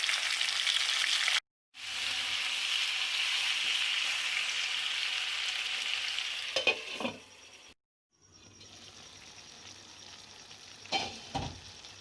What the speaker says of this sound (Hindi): 5 मिनट मैं बिल्कुल हल्की आंच में इसको पकाऊंगी स्टीम में।